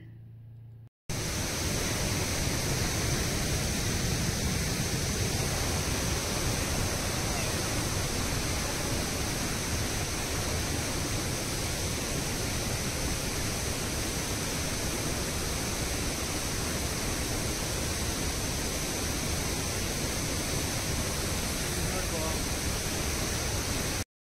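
A waterfall roars as a steady, dense wash of broadband rushing water that continues unbroken for over twenty seconds after a brief quieter opening.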